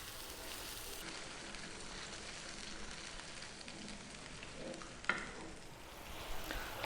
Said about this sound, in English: Really want to cook these tomatoes out a little bit.